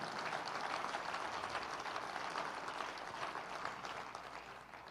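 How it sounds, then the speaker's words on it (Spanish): A church congregation applauds, a dense, continuous wash of many hands clapping at a distance that stays fairly even and begins to fade at the end. "De un aplauso al Señor."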